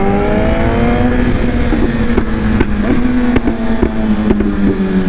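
Honda vehicle engine droning steadily close by on a street, a loud continuous motor hum with faint clicks, passing without pause.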